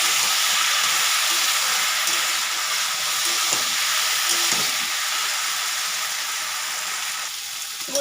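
Taro stolons frying in a pan with shrimp, a steady broadband sizzle and hiss that stays loud and continuous throughout, with a few faint clinks of stirring and no voices.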